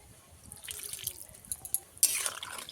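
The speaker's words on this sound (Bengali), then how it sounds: "এই সর্ষের মধ্যে জল দিয়ে জলটা দিয়ে দেবো" Water poured from a vessel into ground mustard paste for an okra and raw mango curry, faint drips and a brief splashing pour near the end, quiet.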